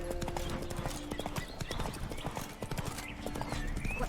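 In The Witcher 3 video game, a horse gallops with rapid rhythmic clip-clopping hooves over a steady ambient bed, close and continuous throughout, with scattered thuds and a possible whinny.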